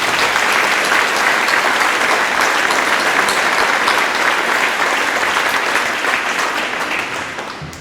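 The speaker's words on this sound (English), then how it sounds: "Let's give a round of applause for that." A packed crowd in a high school gym claps loudly at a homecoming celebration for a state championship football team. The dense, steady applause runs throughout and thins a little at the very end.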